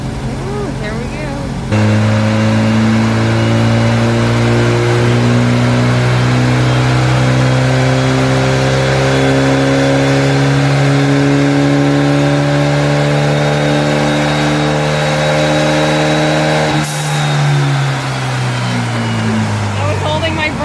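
A 2276cc engine on a dyno kicks in abruptly and revs hard in a sustained, loud, rising drone for about fifteen seconds before cutting back sharply, with faint voices nearby.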